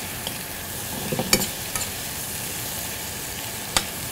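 Fish sautéed in a pan with shallots and garlic, a constant hissing sizzle with occasional sharp utensil scrapes as it is moved around, close and without voices.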